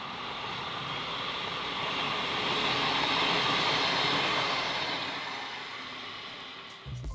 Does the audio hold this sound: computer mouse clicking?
no